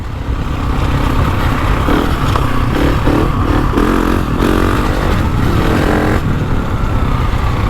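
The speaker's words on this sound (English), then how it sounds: "But even running the bike in, it's got heaps of power." A GasGas ES 700 motorcycle engine runs steadily and loud throughout, a close, continuous rumble with uneven rev changes partway through, no talk over it.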